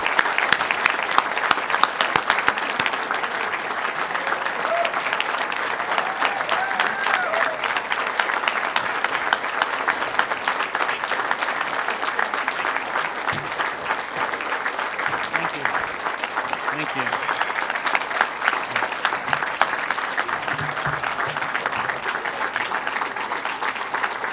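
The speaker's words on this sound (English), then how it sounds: "Let's give them a round of applause." Audience at a mechatronics lab grand opening in Poughkeepsie applauding honored guests, long continuous clapping from a large crowd with some cheering voices woven through, steady and fairly loud for over twenty seconds.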